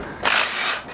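A ratchet wrench clicks briefly as it loosens a security bolt on a QuickFlight unit during service, a short, close, crisp ratcheting burst.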